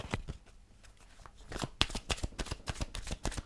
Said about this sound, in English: Just going to grab couple of Romance Angel Oracle cards.